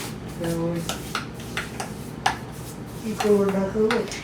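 A spoon scrapes and clinks against a bowl as melting moments cookie dough with cream of tartar is mixed, giving irregular close taps and scrapes with brief voices mixed in.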